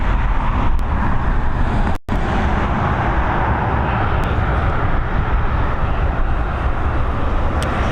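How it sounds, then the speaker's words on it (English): An Aer Lingus Airbus A320 in its newest livery lands on runway 28L at Dublin Airport in the evening, arriving from Malaga. A loud, steady broadband jet roar fills the whole stretch, with one brief dropout near the start and no voices. "EI585, this A320 with the newest of the Aer Lingus liveries, coming in after about a 2 hour and 50-minute flight from Malaga this evening"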